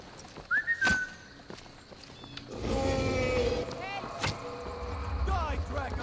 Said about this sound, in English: And I'll give Inigo a whistle.